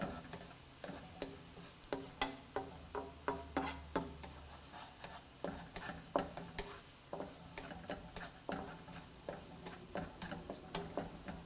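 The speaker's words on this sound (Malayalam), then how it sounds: "സവോള ഒരു ഗോൾഡൻ ഷെയ്ഡ് ആകുന്നത് വരെ വഴറ്റണം." Sliced onions with salt sauté in a pan for chicken vindaloo, a spatula scraping and stirring in a steady repeating rhythm over a faint sizzle, quiet and close.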